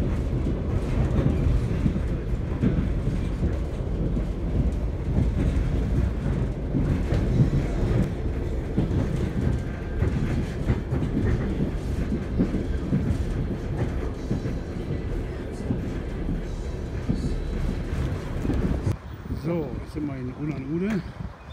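Trans-Siberian train rolling through the taiga, a continuous loud rumble and rattle of the carriage heard from inside, steady throughout with the sound shifting near the end.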